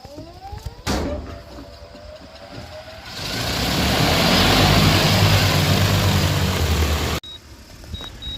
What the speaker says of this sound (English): and the drone will begin the mission